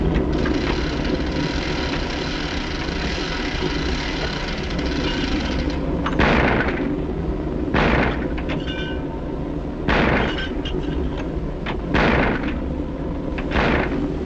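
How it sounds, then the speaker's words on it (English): Anti-aircraft guns fire in a 1939 wartime film soundtrack, heavy booming reports arriving in irregular bursts over a dense, continuous noisy rumble, loud and harsh. "From aircraft to anti-aircraft guns."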